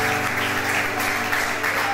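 An audience at a country music tribute concert applauds a singer in a brief, dense burst of clapping, with a low steady tonal hum underneath.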